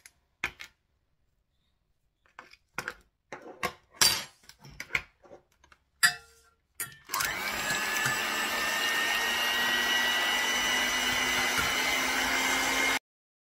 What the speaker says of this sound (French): Je vais commencer à monter les blancs en neige avec un peu de sucre.